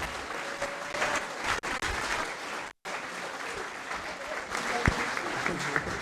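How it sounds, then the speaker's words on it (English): A live audience at a football club talk-in applauds players on stage, sustained clapping at moderate level with a couple of abrupt dropouts and a faint whistle early on. "you can give them a round of applause for that as well"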